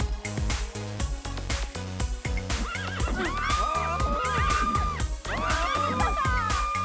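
A horse in the Party Hard video game lets out a loud, warbling neigh partway through, set over clip-clop hooves and a thumping, rhythmic game music track, with no voices.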